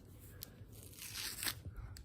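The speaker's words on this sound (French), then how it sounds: "Plus qu'à enlever le scotch." Adhesive tape is peeled off fabric from a dress being sewn, giving a faint, quick tearing rasp at close range, with light rustling before and after.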